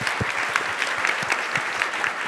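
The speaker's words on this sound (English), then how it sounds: "Give them a huge round of applause for their time." A conference audience applauds in a short, even burst of many hands clapping together, filling the room steadily without a clear peak.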